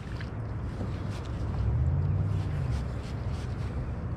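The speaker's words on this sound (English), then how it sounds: "Just trying to be extra careful listening for these boats coming in." Low rumbling boat engine on open water, heard from a kayak, swelling louder in the middle as it draws nearer, with steady wind and water noise throughout.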